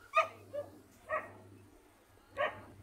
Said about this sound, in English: I can hear a dog barking there.